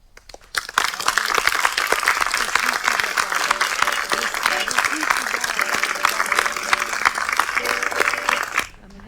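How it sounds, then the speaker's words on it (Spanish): An audience applauds an actress after a stage performance at a Mexican festival, a dense burst of clapping that swells quickly, holds for several seconds and fades, with some voices mixed into the crowd. "Este hermoso, profundo y bello aplauso fue para Frida Kahlo."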